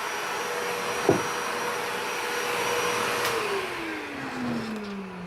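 A shop-built seed cleaner driven by a vacuum pulls an airflow to separate zinnia seed. It sets up a loud, continuous whine and whoosh, with a brief knock early on and a pitch that sags and shifts near the end.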